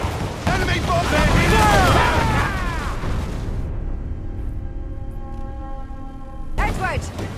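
Naval battle in Assassin's Creed IV Black Flag, with enemy ships bombarding: loud rumbling cannon blasts and explosions rolling together over dense battle noise and shouting crew voices, then fading into a lower rumble.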